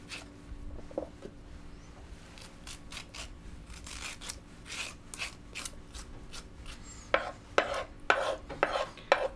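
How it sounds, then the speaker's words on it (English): A spoon scrapes the seeds out of peeled, halved English cucumbers in a run of short rasping strokes, quiet at first and then sharper and louder toward the end. "if you just take a spoon and run it down the middle there"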